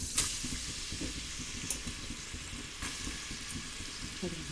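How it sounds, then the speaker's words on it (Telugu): Onions hitting hot oil in a pan for a Telugu punugulu curry, a close, even sizzle with a few sharp pops and scrapes, no speech over it. "ఇదండి ఉల్లిపాయలు వేసేస్తున్నాను."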